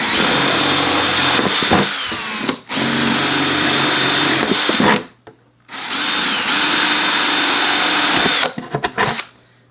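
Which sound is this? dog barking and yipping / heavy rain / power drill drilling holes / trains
power drill drilling holes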